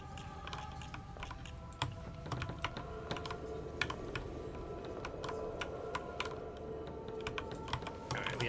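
Rapid scraping clicks and ticks from the Sunken Engine video game as symbols are scraped off a surface, a busy steady patter of small sharp sounds over a low background hum.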